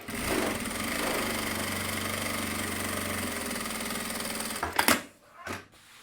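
A sewing machine runs steadily, stitching a seam just inside a chalk line on fabric, a continuous mid-pitched mechanical whir that stops abruptly near the end, followed by a couple of brief handling sounds.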